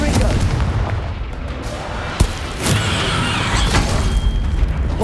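Confringo blasting spells explode in Hogwarts Legacy, loud booming blasts with one sharp crack in the middle, over a dense rumble with a voice partly audible.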